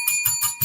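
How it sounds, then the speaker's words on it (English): A bell rings four times in quick, even succession, bright and close, with a clear metallic tone and no talking. "I'll ring the bell for that."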